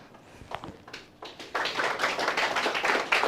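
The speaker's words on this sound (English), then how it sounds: "Yes, clap for her." An audience claps for a former student from Woodland at a school announcement event, a few scattered taps at first, then a dense, steady round of applause building and holding to the end.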